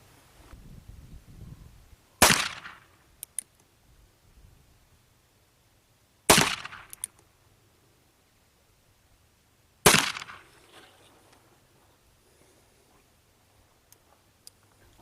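Three loud black powder shots from a Remington 1851 Navy revolver, spaced about four seconds apart, each a sharp crack with a short ringing tail, with quiet in between.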